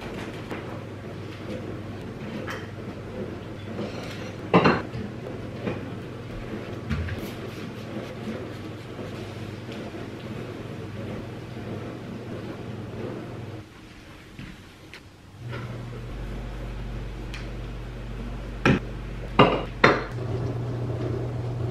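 Dishes and cutlery clatter while a kitchen is cleaned, with scattered clinks and knocks above a steady low background hum. A louder cluster of clanks comes early and another near the end.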